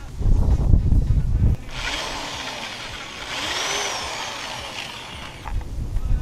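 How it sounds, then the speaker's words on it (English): A power drill whirs steadily for several seconds, a continuous grinding hum close by, after a short burst of clattering handling noise, while drilling out a ball joint on a Mazda RX-7. "Drilling."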